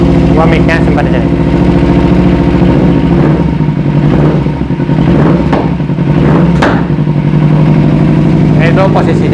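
A Kawasaki Ninja 250 Fi motorcycle with a modified exhaust runs loud and close, throttled up repeatedly with rough, popping revs over a steady idle rumble.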